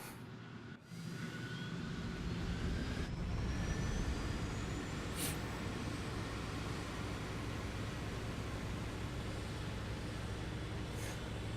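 Me 262 jet fighter in a flight-combat video game, a steady loud roaring engine drone with a rising whine, continuous and close, with a few brief clicks and no speech.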